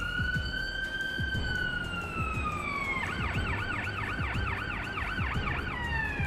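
A wailing ambulance siren from the paramedic simulator game Ambulance Life sweeps slowly, then shifts to a fast yelp pattern, loud and steady over engine rumble with no talking.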